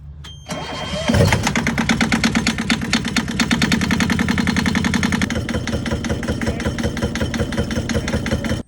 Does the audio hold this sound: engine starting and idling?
yes